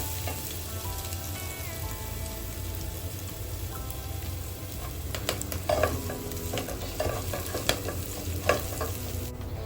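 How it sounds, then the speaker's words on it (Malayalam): Salted chillies and curry leaves fry in a pan for a salt chilly pickle, a steady close sizzle broken by soft scraping stirs and occasional crackles. "കുറച്ച് കറിവേപ്പില ഇടുന്നുണ്ട്. എല്ലാം കൂടെ നന്നായിട്ട് മിക്സ് ചെയ്ത് കൊടുക്കാം."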